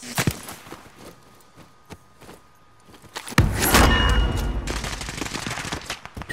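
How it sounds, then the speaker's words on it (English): Gunfire in Call of Duty: Modern Warfare, scattered single shots and clicks at first, then a sudden loud, sustained volley of rapid close fire with dense crackling, and no one talking. "Oh, there's a guy shooting for the left"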